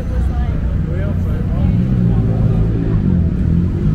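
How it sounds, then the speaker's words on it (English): Heavy car traffic on the Las Vegas Strip at night, a steady low rumble of engines with a vehicle passing close by, loud and continuous. "Because of so many cars, so many traffic around here"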